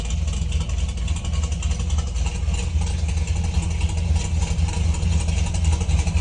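A built-up 390 engine in a 1968 Ford F250 idles with a steady, deep rumble close by, even and unbroken throughout with no voices.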